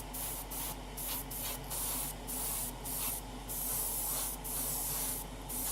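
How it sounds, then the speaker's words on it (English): Silver Zero Paints airbrushed onto a 1:12 Tamiya Honda RC211V motorcycle frame in short, light mist bursts, a soft hiss pulsing on and off about a dozen times, close and alone. "I've just sprayed the main frame. So as usual with Zero Paints, build the layers up, a few light mist coats"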